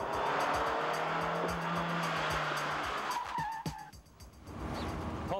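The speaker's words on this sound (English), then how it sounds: "Nice braking, Graeme." A 1989 Ford Probe brakes hard, its tires skidding and squealing over loud road and engine roar, which then drops away into a short quieter stretch before noise returns.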